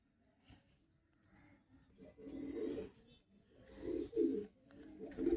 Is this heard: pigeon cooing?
yes